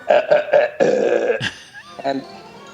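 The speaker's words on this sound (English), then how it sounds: "they start burping, and they burp the notes from the 5th symphony" Cartoon characters burp out the notes of Beethoven's 5th Symphony, a quick run of loud, close, rhythmic belches with tonal pitch, followed by brief vocal sounds.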